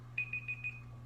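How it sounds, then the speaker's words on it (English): A timer alarm goes off with four short, evenly spaced high beeps, fairly quiet over a steady low electrical hum. "It's just the timer letting me know that I am should be done by now."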